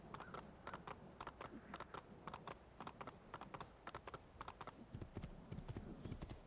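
Rapid, rhythmic horse hooves clip-clopping while riding in Assassin's Creed 2, a steady galloping patter of sharp hoof strikes, fairly close and clear.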